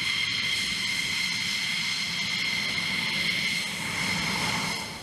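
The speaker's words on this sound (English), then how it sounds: "Rigorous engine testing and maintenance are critical to ensuring the performance, reliability, and safety of fighter jets like the F-16." An F-16 fighter jet engine runs under test, a steady, loud, continuous roar with a high whine layered on top, holding level before easing off slightly at the end.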